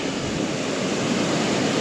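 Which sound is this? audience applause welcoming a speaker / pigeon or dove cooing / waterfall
waterfall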